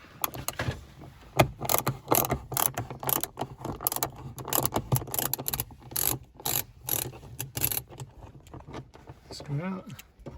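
A ratchet clicks in quick bursts while backing out a T15 screw from the front interior roof light of a MK7 VW Golf, close up, with brief gaps and a short speech-like sound near the end.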